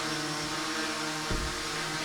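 A DJI drone hovers indoors in a studio, giving off a steady, close buzzing hum with whining tonal harmonics and a brief low thump partway through, with no talk.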